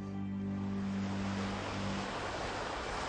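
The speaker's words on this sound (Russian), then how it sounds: "Есть чудо набегающих на берег волн." Ocean waves surge and break on a shore in a steady, loud wash of surf. A low sustained tone lies beneath the first two seconds before fading out.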